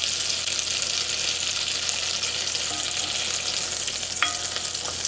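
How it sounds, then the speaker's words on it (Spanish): Butter melts in a preheated pot over medium-low heat for macaroni soup, making a steady, even sizzle close up with a couple of faint clicks near the end. "vamos a poner la mantequilla y la derretimos. Esto lo vamos a hacer a fuego medio bajo."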